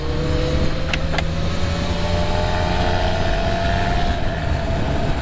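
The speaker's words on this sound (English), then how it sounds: "that's a loud muffler, buddy" A loud muffler on a passing vehicle roars steadily close by, a broad continuous rumble with a rising engine tone, heard from the street by someone riding past on an electric motorbike.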